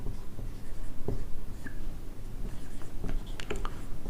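Chalk or marker writing on a classroom board, scratchy strokes and taps in short irregular bursts, close and alone, with no talking.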